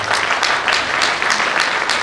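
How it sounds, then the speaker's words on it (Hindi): An audience at a Rotary youth conclave bursts into loud, steady applause, many hands clapping densely and close together without pause. "मैं चाहूँगा कि एक जोरदार ताली हो जाए"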